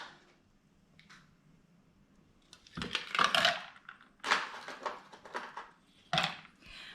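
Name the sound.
ice being added to a gin cocktail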